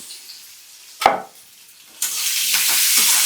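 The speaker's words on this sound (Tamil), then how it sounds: "ஒரு மீடியம் சைஸ் பெரிய வெங்காயம் பொடியாக நறுக்கியிருக்கேன் நல்லா கோல்டனாக அது வதங்கட்டும்" Chopped onions drop into hot oil with curry leaves and asafoetida, bursting into a loud, steady sizzle that swells and holds, with a brief clatter just before.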